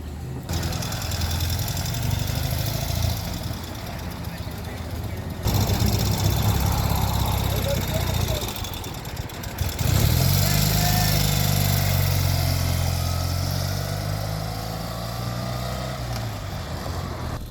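A Ural motorcycle with sidecar engine runs and revs, a loud steady chugging that rises in pitch as it pulls away, with a brief dip mid-clip and faint voices over it.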